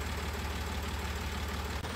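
A tractor engine idles steadily, a constant low rumbling drone with a faint knocking pulse and no voices.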